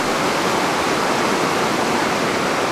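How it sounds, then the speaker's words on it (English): Water tumbles down a small waterfall cascade on the Isle of Mull, a loud, close, unbroken rushing roar with no other sounds. "I'll try and get these beautiful bubbles and the little cascade just in front."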